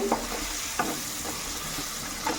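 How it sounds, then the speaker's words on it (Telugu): Onions and green chillies fry with a dense, continuous sizzle in a pan while a spoon stirs them in a few soft scraping strokes. "ఉల్లిపాయలు అయితే చక్కగా మగ్గిపోనియండి."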